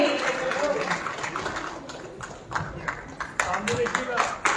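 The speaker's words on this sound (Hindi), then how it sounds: "दमदार तालियों के हकदार हैं कुशीनगर से रिंकी जी।" Audience applause at a conference of rural banking correspondent women, a sustained crowd clapping that swells louder toward the end, with sharp individual claps and some talk underneath.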